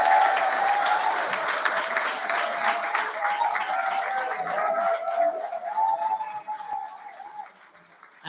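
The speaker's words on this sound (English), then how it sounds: "I want you to give a round of applause to the very special lady who organised all that" Audience applause at the All-Ireland Confined Drama Finals, honouring the festival organiser. Steady, sustained clapping from a large crowd fills the hall, with a faint tonal note running beneath, before it thins and fades toward the end.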